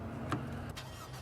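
A 2012 Range Rover Evoque with a four-cylinder turbo engine starts up, a short crank burst followed by a steady near idle rumble, with no talk over it.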